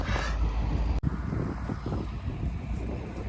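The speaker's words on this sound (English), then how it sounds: "It's awful windy today." Cold wind blows outdoors and buffets the microphone with a loud, steady low rumble and rustle that lasts the whole time.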